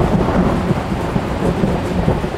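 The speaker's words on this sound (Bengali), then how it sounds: "এমন সময় হঠাৎ কড়কড় শব্দে একটা বাজ পড়ল।" Thunder rolls through a heavy rainstorm as a loud, continuous low rumble blended with a steady hiss of rain, close and with no voices.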